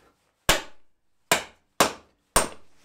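Four sharp, loud hammer blows with pauses between them, driving a bearing race into place on a V8 Toyota pickup using a bolted-down installation tool set on a wood block. The strikes are close and each one rings out briefly.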